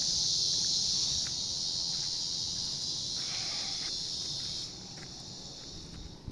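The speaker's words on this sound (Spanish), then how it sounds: "Escucha los animales, la cigarra, la chicharra." Cicadas drone in a shrill, unbroken chorus in the countryside scrub, fading a little toward the end, with faint rustling underneath.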